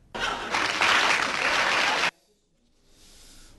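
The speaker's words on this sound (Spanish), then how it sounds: "os pido un fortísimo aplauso final" A television studio audience gives a loud final round of applause at the close of a political talk show, dense and sustained for about two seconds before cutting off abruptly, with faint crowd noise returning afterward.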